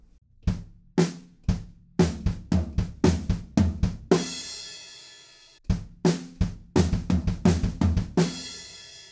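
Drum fill in the verse of a song, played on a kit: sharp kick and snare hits in quick bursts, a ringing crash cymbal midway, then more rapid tom and snare strokes, loud and close with no talking.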